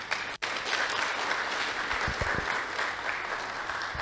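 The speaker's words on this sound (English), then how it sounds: "I think we can give him another round of applause." An audience at a conference on universal health coverage claps in sustained, dense applause, with one brief break near the start before the clapping continues evenly at moderate loudness.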